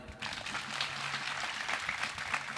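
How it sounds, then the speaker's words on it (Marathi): An audience claps at a Shivaji Jayanti celebration program, a dense wash of applause from many hands that holds steady for a few seconds at moderate distance. "टाळ्या वाजवून एकदा"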